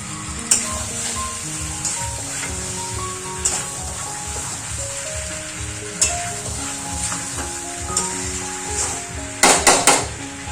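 Spice masala for chicken biryani sizzling in a pan, a steady close frying hiss broken by scrapes and knocks of stirring, with a burst of clattering utensil hits near the end.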